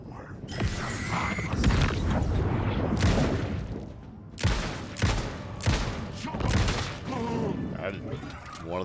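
Dense bursts of gunfire and impacts in Alan Wake 2 come in several loud, sharp hits amid a busy, cluttered game soundscape, with speech mixed in.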